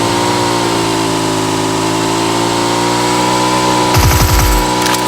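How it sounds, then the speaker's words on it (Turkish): Motorcycle engine in a video game, running steadily and loudly up close with a constant droning hum, then a brief rough burst of revving near the end. "Gel motoru alalım gidelim gel"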